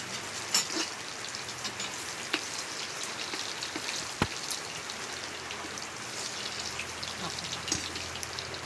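Rain falling during a rainy day outdoors as eggs are fried, a continuous soft patter of drops with scattered sharper ticks and taps hitting surfaces, no one speaking.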